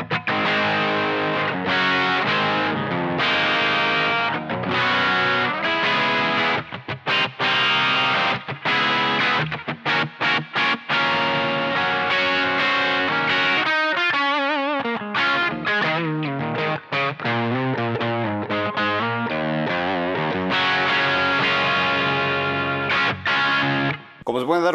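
Electric guitar played through a T-Rex Mudhoney II distortion pedal, with the gain turned up somewhat, delivering loud, continuous overdriven chords and riffs with sustained harmonic-rich tone and a few brief pauses between phrases.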